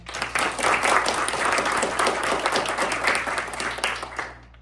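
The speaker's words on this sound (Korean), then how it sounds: "보이지 않는 곳에서 노력해준 무대 연출 팀원들에게 큰 박수 부탁드립니다." Audience applause after a university department's annual stage performance in an auditorium, dense steady clapping from many hands for several seconds before fading out at the end.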